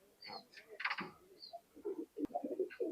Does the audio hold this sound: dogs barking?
no